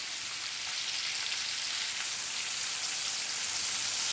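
Fish pan-frying in hot oil until golden brown for a Thai home-cooked dish, giving a steady, loud, dense sizzle and crackle that holds evenly throughout with no voices.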